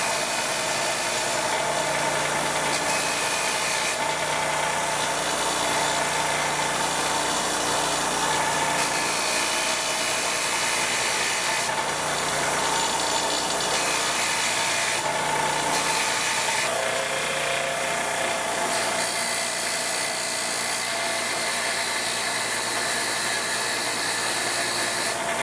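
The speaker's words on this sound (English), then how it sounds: "we're going to take and clean the carbon off the valve. I'm starting with the exhaust valve." Carbon is scrubbed off the exhaust valve of a 2002 Honda Shadow 1100 cylinder head, a steady close abrasive whirring with a continuous rasping texture throughout.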